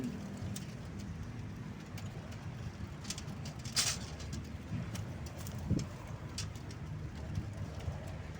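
Racing pigeons cooing softly over a steady outdoor rumble, with a few faint flutters and clicks scattered through.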